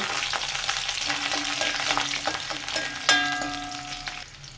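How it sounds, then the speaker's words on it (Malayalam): Onion and garlic fry in hot coconut oil in a pan, a steady close crackling sizzle with occasional stirring scrapes and light metallic taps, with no talking. "ചീനിച്ചട്ടി ചൂടായി അതിലേക്ക് ഞാൻ വെളിച്ചെണ്ണ ഒഴിച്ച് കൊടുത്തിട്ടുണ്ട് അതിലേക്ക് ഉള്ളി എരിഞ്ഞത് ഇട്ട് കൊടുത്തിട്ടുണ്ട് അതിലേക്ക് നമ്മൾ വെളുത്തുള്ളി ഇട്ട് കൊടുത്തു"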